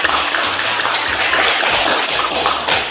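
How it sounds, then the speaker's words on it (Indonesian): A class of students claps their hands together for a classmate, a dense, steady patter of applause that fills the room throughout with no pauses. "Oke, tepuk tangan Novi."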